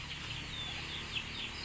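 Backyard chickens cluck faintly in the background around their coop and feeding area, a soft, scattered murmur of fowl with no talking.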